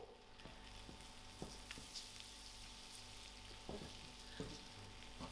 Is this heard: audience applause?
no